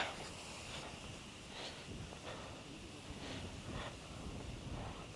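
Strong wind on a hilltop during a trek and camping trip at Bodimettu in Tamil Nadu: a faint, steady rushing hiss with gentle gusts swelling and fading, and no voices.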